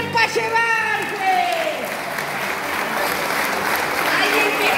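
An audience bursts into lively applause and cheering, steady clapping filling the room for several seconds with excited voices heard over it at the start.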